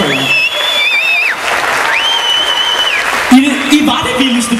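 Audience clapping steadily at a Vig Festival concert, the applause filling the space while an amplified voice talks over it throughout.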